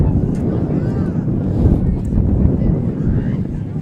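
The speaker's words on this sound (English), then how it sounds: "you hear all that wind. That's because it's pretty windy out here." Strong wind buffets the microphone in a continuous low roar at an outdoor high school football game, with faint voices or crowd sounds in the distance.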